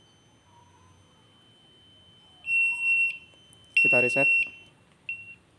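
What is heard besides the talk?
buzzer alarm of a BNWAS built on Outseal Mega V1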